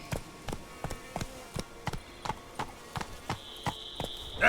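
Roach, a horse in The Witcher 3, gallops with a steady run of clip-clop hoofbeats, close and evenly spaced, with a bright tone rising near the end and no talk.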